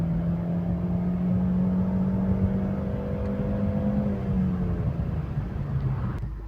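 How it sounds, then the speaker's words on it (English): A car engine revs at full throttle up to the redline during a knock-threshold setup run, a steady loud droning pull with rising harmonics that ends as the throttle lifts. "And then we're just going to do full throttle to our red line."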